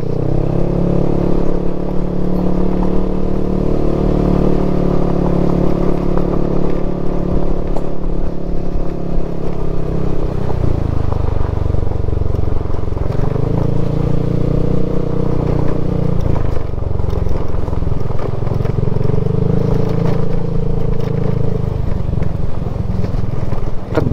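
A motorcycle rides along a rough, broken tar path on the way to the Ammococan waterfalls, its engine droning loudly and steadily throughout, with shifting pitch and rattling clatter from the bumpy ground.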